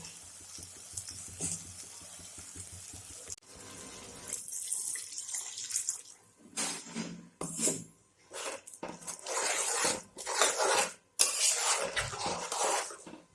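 Water poured into a pan of boiled peas for Bengali ghugni, a splashing, pouring rush in several bursts with kitchen clatter between them.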